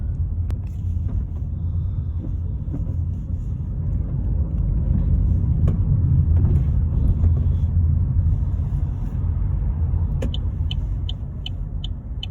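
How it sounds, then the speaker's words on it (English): A car drives into a retail park, its steady low engine rumble and road noise filling the cabin throughout, with a few faint clicks near the end and no voices. "I'm driving into the retail park now."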